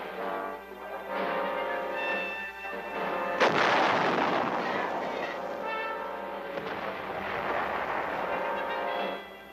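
Artillery firing during basic training at an artillery school outside Tainan, Taiwan: a sharp loud blast near the start of a sustained, dense roar of gunfire and rumble that continues throughout with no speech.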